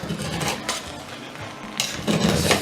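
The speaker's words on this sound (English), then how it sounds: "Yeah, I love stirring my jollof" A spoon scrapes and knocks around the inside of a pot of spicy goat meat jollof rice, producing intermittent metallic clinks and scraping bursts close by.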